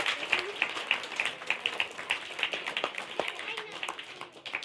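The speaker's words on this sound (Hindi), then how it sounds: "अब सभी अपने लिए तालियां बजाएंगे" An audience at a school annual function, at Shastri Nagar UPS school, claps for themselves in a lively, fairly even rhythm of sharp hand claps that sounds moderately close and holds throughout, with faint voices now and then.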